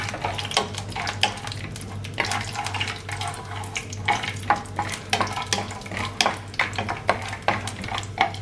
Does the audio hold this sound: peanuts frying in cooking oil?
yes